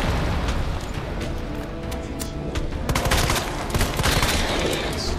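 Grenade blasts in the Resident Evil 2 video game boom repeatedly, dense and loud, with crackling bursts and rattling debris piling into a continuous roar.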